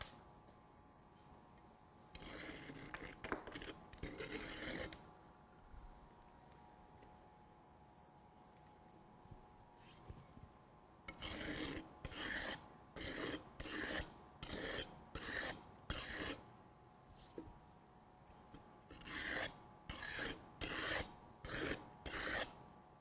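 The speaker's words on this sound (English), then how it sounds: "with my standard strike-off bar, I'm going to strike my concrete off level with the top of my measure here" A steel strike-off bar scrapes fresh concrete level with the top of a roll-a-meter air content measure, a series of close, gritty rasping strokes in bursts with short pauses between them.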